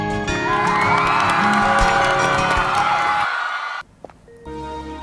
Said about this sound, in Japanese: 改めて A チームの皆に勝利の拍手を。